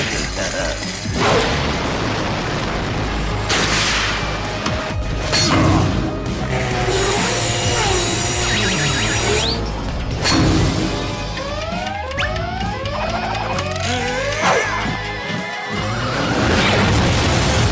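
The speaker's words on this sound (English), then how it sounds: "These are the best Halloween fireworks I've ever seen." Cartoon Halloween fireworks burst in a rapid, loud run of crashes, whooshes, bangs and clattering effects, dense and close with barely a pause.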